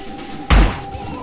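A single loud door thud in Hitman: Blood Money, one short heavy bang standing out over a quiet ambient game background.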